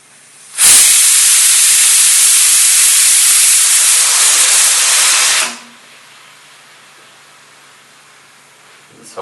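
Pressure cooker vegetable soup lets off one loud, sustained hissing steam whistle that starts abruptly, holds steady for about five seconds, then cuts off into quiet kitchen background.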